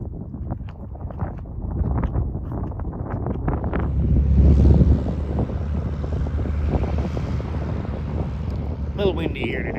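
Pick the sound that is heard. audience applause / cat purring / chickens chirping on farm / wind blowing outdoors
wind blowing outdoors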